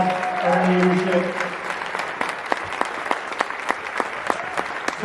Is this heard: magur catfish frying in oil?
no